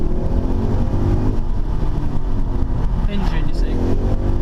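A Ford Mustang GT 5.0 V8 engine holds a loud, deep, steady drone around 3,000 RPM in a lower gear while someone talks over it.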